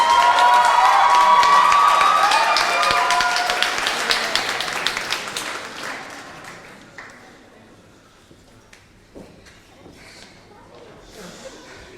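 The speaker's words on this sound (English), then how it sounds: "massive round of applause" A student union election results count erupts in loud crowd cheering and applause that stays strong for several seconds, then fades into scattered clapping and murmuring voices.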